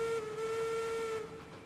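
Steam locomotive whistle in the Railroads Online game, one sustained steady tone lasting over a second before fading, close and clear over a low rumble.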